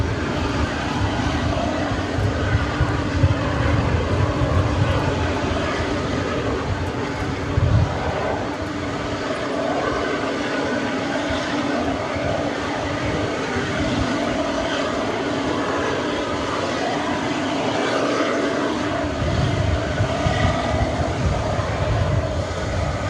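Jet airliners rumble at DFW Airport at night, a steady loud engine drone from a taxiing or departing plane with wind buffeting, no talking.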